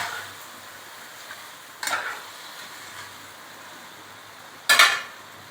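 Chicken black pepper curry cooked down in a pan, with a low steady sizzle of frying and two short scraping stirs of a spoon against the pan, no talk.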